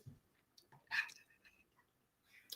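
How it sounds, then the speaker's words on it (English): Someone eating dinner close to the microphone, with soft chewing and a sharp crunch near the middle, then quieter mouth clicks in an otherwise hushed room. "So if y'all hear me munching and crunching"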